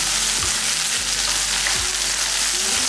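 Shallots and coriander leaves sauté in a pan for mutton gravy, with a steady, loud hiss of frying oil and occasional soft scrapes of a spoon stirring through.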